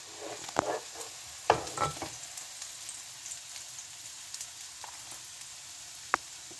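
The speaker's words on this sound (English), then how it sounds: "we toss the egg and cook it on both sides" An egg frying in a pan for an egg chickpea curry, with soft crackling sizzle and a few sharp clatters and scrapes as it is tossed and flipped, fairly quiet with no talk.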